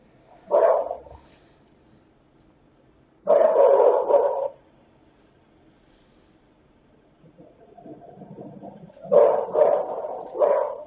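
A dog barks in three separate bursts near a house during nighttime-style surveillance, each a short cluster of barks spaced several seconds apart, with quieter vehicle-like rumble in between.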